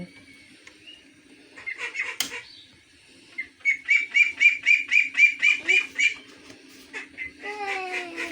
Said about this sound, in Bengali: হাঁস চিল্লাচ্ছে